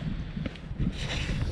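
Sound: wind blowing

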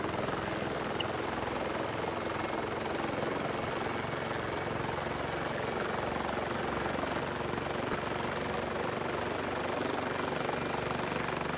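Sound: helicopter in video game BRM5

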